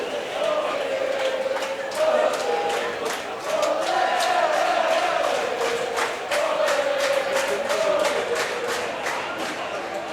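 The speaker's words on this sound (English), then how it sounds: "Crowd cheering for that one." Crowd cheering and shouting at a mixed-division ultimate frisbee world championship pool-play match, a sustained roar of many voices with rhythmic claps, steady for about ten seconds.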